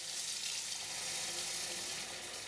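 Cool, room-temperature tap water runs steadily over freshly dyed yarn in a sink, a loud continuous hiss and splash with no break.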